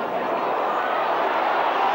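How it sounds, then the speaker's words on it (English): A stadium crowd at a rugby league match between St Helens and New Zealand at Knowsley Road roars in a dense, steady wash of noise, close and loud, with faint commentary voices mixed in. "This Nosey Road crowd in an absolute ferment."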